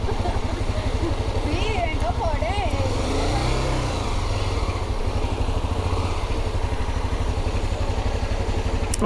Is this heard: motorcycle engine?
yes